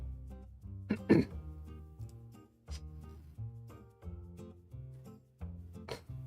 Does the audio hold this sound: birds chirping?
no